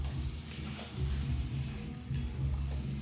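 Goat meat added to fried onion, bay leaf and spices in hot oil, sizzling steadily up close with soft stirring scrapes and a low background hum.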